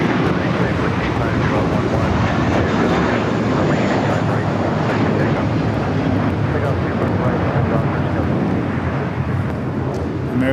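An American Airlines Airbus jet, about thirteen years old, bound for Dallas Fort Worth at LAX, gives a steady loud broadband roar that holds evenly throughout, with wind buffeting the microphone.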